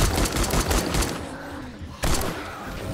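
Dense, rapid bursts of gunfire in the game 7 Days to Die, loud and continuous, briefly cutting out before resuming in fast automatic volleys.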